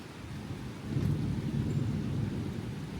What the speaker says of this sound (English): We've had some really loud thunder and lightning here.